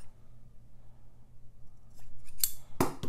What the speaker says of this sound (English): I'm just going to clip these little corners off